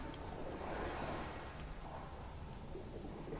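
A character wading in water in the video game Dying Light, a steady dense wash of watery, wind-like noise without breaks, heard alone at low level.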